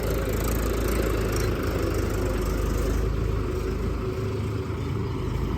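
A heavy tractor engine drones loudly and continuously at close range, straining while pulling an 18-foot trolley, its low rumble steady throughout with no pauses.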